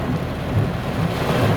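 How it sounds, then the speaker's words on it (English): Heavy rain pours steadily at the roadside on the way into Mwanza, Tanzania, with a low rumble of thunder beneath the dense hiss of downpour. The sound is loud, continuous and constant throughout, with no voices. "we headed into Mwanza, but were forced to pause at the side of the road by some heavy rain"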